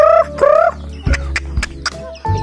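Ducks quacking among a flock of chickens in a farmyard, several close harsh calls in short bursts followed by lower clucks, loud and near with no talk over them.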